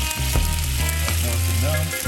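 Butter sizzling and frying in a hot pan, a steady loud crackle with a few stirring or scraping knocks, and no talk.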